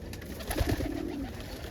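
Young homing pigeons coo softly in their loft, a few low, muffled throaty coos close by against a steady background hiss.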